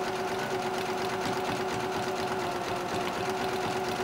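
A sewing machine runs steadily as it stitches an elephant appliqué onto fabric, its fast, even mechanical whir and needle chatter continuous and close with no voices.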